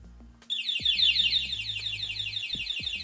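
Keyless anti-theft alarm on a motorcycle going off: after a short quiet start, a loud rapid warbling electronic siren repeats continuously, with a few faint knocks underneath.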